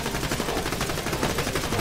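Rapid automatic gunfire from Borderlands 2 rattles in a dense, continuous stream of shots, loud and close, with no speech over it.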